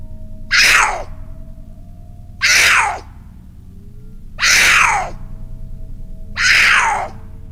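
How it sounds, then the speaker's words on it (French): Mountain lion screams, four loud drawn-out shrieks spaced about two seconds apart over a faint low hum, close and alone. "les cris des lions des montagnes sont assez curieux"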